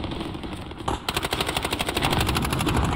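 Automatic gunfire in the Call of Duty Modern Warfare video game: a quieter stretch gives way to a loud, rapid, evenly spaced machine-gun burst that keeps firing to the end.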